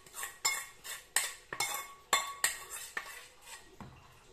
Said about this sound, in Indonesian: Lalu kita tuang di mangkok.